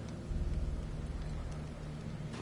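Steady rain hisses in a gloomy game world of The Sinking City, a soft, even wash of falling drops with no voices over it.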